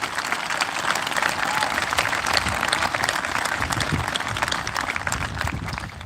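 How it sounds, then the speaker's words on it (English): A crowd gives graduating students a round of applause, a dense, even roar of many clapping hands from start to finish, with faint voices mixed in. "Please give these students a well-deserved round of applause."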